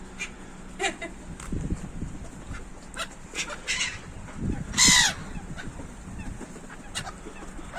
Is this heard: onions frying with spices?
no